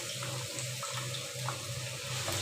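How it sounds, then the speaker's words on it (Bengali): Chopped onion sizzles in hot oil with cardamom and bay leaf, fried slowly like beresta for a chicken roast; a steady, close frying hiss runs throughout with no talking. "এলাচ আর তেজপাতাটা কিছুক্ষণ হয়ে যাওয়ার পরে আমি এখানে পেঁয়াজ কুচি দিয়ে দিচ্ছি পরিমাণ মতো।"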